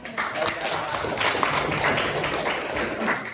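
A junior high school classroom of students applauding together, a brisk steady stream of hand claps at moderate loudness that carries on for a few seconds, with faint voices beneath.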